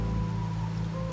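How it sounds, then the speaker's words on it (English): Steady rain falls in the video game Wuthering Waves, an even, soft hiss that continues throughout beneath sustained music tones. "Rain's back."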